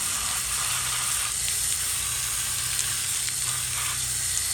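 A Pentair pool filter cartridge being rinsed with a hose: a steady, loud, broadband hiss of spraying water runs unbroken throughout.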